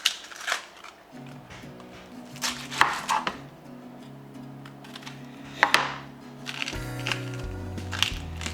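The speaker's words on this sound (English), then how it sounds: "let's get these onions chopped up here." A knife chops onions into fairly thick slices on a board for brisket, giving irregular sharp taps that are sometimes quick and sometimes spaced apart, close and clear over soft background music.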